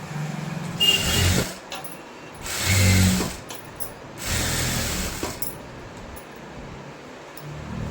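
A sewing machine stitches blouse fabric in three bursts of mechanical whirring, each about a second long, with quieter pauses between them at close range.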